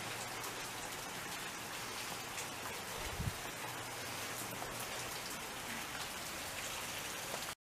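Steady rain falling outdoors on leaves and surfaces, a dense, even hiss of drops heard close and continuous, with one brief low thud midway and no talking.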